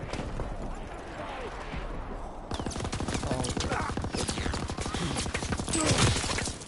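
Rapid gunfire bursts in the World War II shooter Call of Duty WWII, a fast run of shots that starts midway through and keeps going, loud and steady with game noise under it, and a voice talking beneath.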